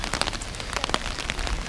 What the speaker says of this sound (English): It's the first time it's rained since we've been here